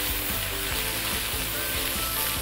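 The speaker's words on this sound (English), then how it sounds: "Then you move around again. Stir fry again." Noodles stir-fry for Hokkien prawn mee with a loud, dense sizzle and regular scraping strokes of a spatula in the pan, no talking.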